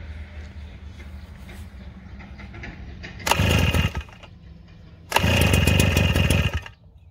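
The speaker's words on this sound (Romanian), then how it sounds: "Ați auzit cum motorul a dat să pornească?" A small two-stroke engine on an Elefant 3WF-3S backpack mist blower sputters and catches briefly twice, each loud ragged roar lasting about a second before dying back to a quieter background.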